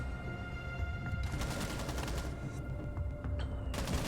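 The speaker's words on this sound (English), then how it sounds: "And we might see another gunfight here." Rapid gunfire crackles through a tactical shooter gunfight on the Kafe map, with several sharp bursts over a steady background of game ambience.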